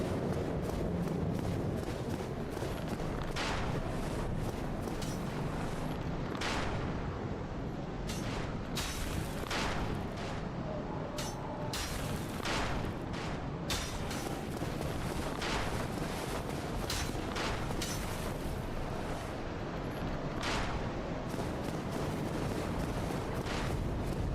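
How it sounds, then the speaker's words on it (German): Gunfire in Dark Souls Remastered sounds as sharp, scattered cracks, some single and some in quick pairs, spread across a dense, rumbling game background with no talk. "Ich will mir mal klären, von wo diese Schüsse jetzt kommen."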